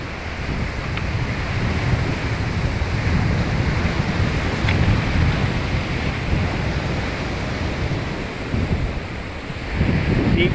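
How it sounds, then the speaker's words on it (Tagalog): Heavy ocean surf roars continuously nearby at a fishing spot, a dense wash of crashing waves mixed with gusty wind buffeting the microphone. "lakas ng alon eh"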